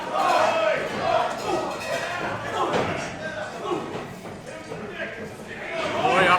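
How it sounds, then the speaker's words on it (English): A wrestling arena crowd at a live pro wrestling show chants for a wrestler, a loud rhythmic roar of many voices mixed with yelling and thuds from the ring. "we hear the crowd once again chanting for Roy"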